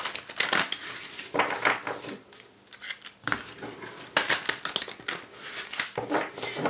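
Oversized tarot cards being shuffled by hand, close riffling and papery slides in several bursts with short pauses between them, with no talking.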